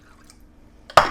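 Water added a little at a time to yogurt for flatbread dough, heard as one sudden close liquid splash after near silence.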